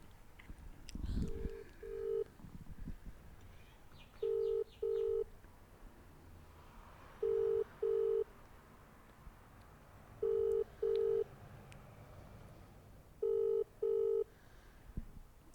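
Phone call ringback tone during a podcast recording, paired electronic beeps repeating steadily about every three seconds, loud and clear over a quiet room with a few faint knocks.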